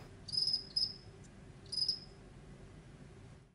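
A male cricket chirps its victory song after a fight in a few short, high-pitched bursts over a quiet background, then falls silent.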